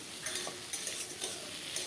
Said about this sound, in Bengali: দিয়ে এটাকে 3 মিনিট আমি ভালো করে নেড়ে নেড়ে ভেজে নেব।